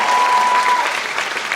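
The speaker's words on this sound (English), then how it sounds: "Round of applause for Steve Norton" A convention audience at a Las Vegas fan panel applauds loudly for an attendee, dense steady clapping close by, with a brief tone running through the first half.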